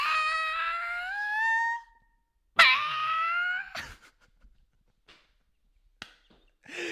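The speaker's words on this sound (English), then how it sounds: "Have you ever heard the squirrel call?" A squirrel's call: two loud, squealing, rising cries with bright overtones, separated by a short pause, followed by a few faint clicks and thumps in near silence.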